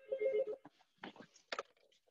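A phone rings with an incoming call during a lecture, a few short electronic ringtone bursts at moderate volume with gaps between them, heard alone without talk.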